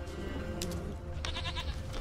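A goat bleats in The Witcher 3 video game, a wavering nasal cry repeated in short bursts over a steady low ambient game hum, fairly close and clear.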